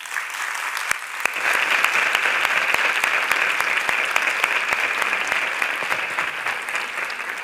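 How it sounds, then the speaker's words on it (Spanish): Sustained, even applause from an audience welcoming author Alice Kellen at a literature talk, dense clapping throughout with no voices over it. "les invito a conocer con un fuerte aplauso a Alice Kellen"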